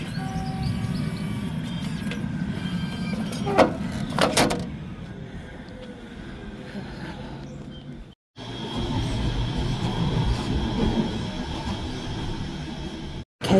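A Manchester tram rumbles near Exchange Square, with steady rolling rail noise, a couple of sharp clanks and a brief hiss, then a cutoff and renewed running noise; faint voices are barely present.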